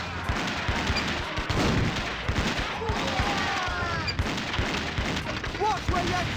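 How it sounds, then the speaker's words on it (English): Cannon fire aimed at an undead horde rowing to shore in The Curse of Monkey Island, sounding as repeated booming shots spread across the clip over a busy music and effects bed. "you get control of the cannon, which gives us this fun little action-like part that lets you shoot at the undead horde"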